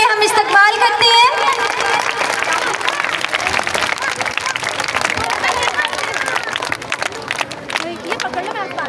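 An audience claps for young students performing at a school Independence Day event, a steady wash of applause mixed with crowd chatter and voices throughout, with music-like tones near the start.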